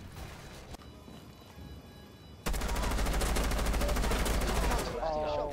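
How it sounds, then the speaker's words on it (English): Gunfire in the Rainbow Six Siege video game: a loud, sustained burst of rapid automatic shots bursts in and runs continuously for a couple of seconds after quieter game noise. "Blind firing."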